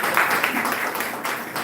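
An audience at a Women's Day inaugural function applauds in a steady wash of clapping, moderately loud and even, with faint voices underneath.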